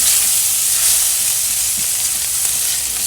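Fresh onion and garlic fry in a pan for a smoked herring pizza topping, producing a loud, steady sizzle that holds evenly from start to finish with no voices.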